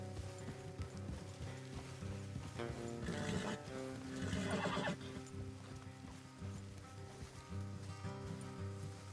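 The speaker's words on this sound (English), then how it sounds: "Let's leave the horses here and go the rest on foot." Horses whinny and neigh over steady clip-clopping hooves in Red Dead Redemption 2, with a layered musical score playing throughout.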